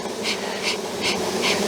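Honey bees buzz steadily on top of a hive's honey super during a beekeeping job with nucs, a dense close hum with a few louder swells passing near, no talking.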